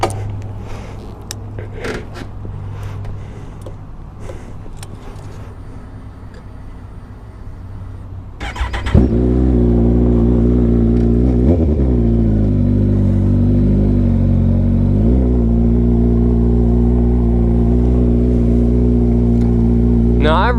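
A 2010 Kawasaki Ninja ZX-14R fires up and holds a loud, steady engine roar close by, with a couple of brief rev swells partway through after a quieter stretch of low rumble beforehand.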